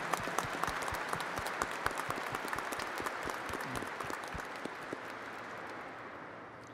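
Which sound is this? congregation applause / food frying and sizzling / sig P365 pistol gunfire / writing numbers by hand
congregation applause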